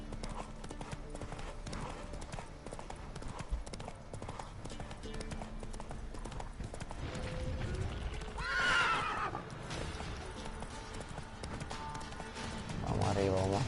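Roach, a horse in The Witcher 3, gallops with rapid rhythmic clip-clop hoofbeats, then lets out a loud neigh midway and another whinny at the end, with a voice talking at times over the game sound.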